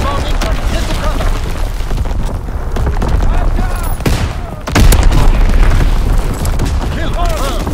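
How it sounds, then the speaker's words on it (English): Heavy booming explosions roll through a Call of Duty: WWII match as an enemy bomb lands, loud and dense with rumbling blasts and crackling gunfire layered under shouted in-game voice callouts. "Enemy bomb incoming!"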